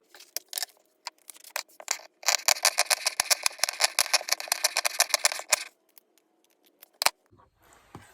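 Pinking shears snip through the stitched edges of a fabric Easter egg in a fast run of crisp, rhythmic cuts, preceded by a few scattered snips and followed by one last cut, close and clear.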